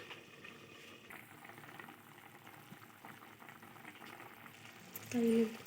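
Chicken simmers in water in a covered pan, a faint, steady bubbling hiss, with a brief louder voice at the end.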